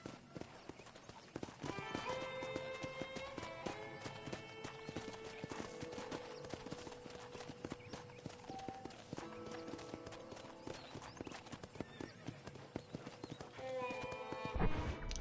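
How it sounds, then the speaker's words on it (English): A ridden horse in Red Dead Redemption clops along at a steady gait, hooves striking in a continuous quick rhythm under layered game music, with a brief snort and rising intensity near the end. "Okay, let's see if you can still ride a horse."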